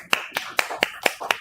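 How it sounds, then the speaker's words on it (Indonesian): Classroom group in a teacher-training session clapping after a student presentation: about six sharp, evenly spaced claps in a quick rhythm, close and distinct. "tepuk tangan dulu dong"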